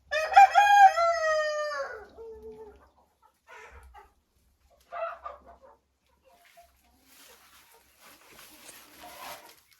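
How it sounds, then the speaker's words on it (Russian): A rooster crows loudly and close by at the start, followed by scattered hen clucks in a poultry coop where old hens feed on grain mix and shell grit, with quieter rustling and faint later sounds. "Это сейчас курочка кушает кормовую ракушку."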